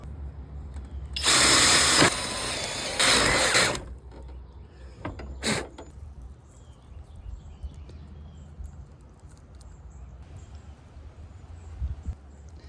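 A leaf blower blasts air at a putty-filled crack in two loud bursts of roaring rush, one longer and one shorter, followed by quieter scattered knocks and a brief sharp burst.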